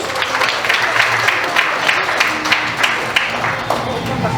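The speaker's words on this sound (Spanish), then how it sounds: "le vamos a dar muy fuertes aplausos" A crowd at a wedding claps steadily in a dense, continuous wash of applause, with faint voices mixed in.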